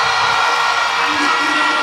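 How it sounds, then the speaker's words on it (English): A stadium crowd cheers steadily for a winning hurdler after a 400m hurdles race, the roar dense and loud and sustained throughout with scattered whoops rising out of it. "Crowd loving her here."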